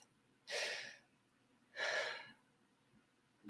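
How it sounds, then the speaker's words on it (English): Two slow, deep breaths, each a soft airy rush lasting about half a second, separated by a pause, close and quiet against a silent background. "take a deep breath"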